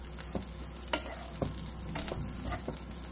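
Cauliflower thoran (mezhukupuratti) is stirred in a pan, a soft sizzle broken by about half a dozen scraping clacks of the spoon at irregular intervals, fairly quiet and close.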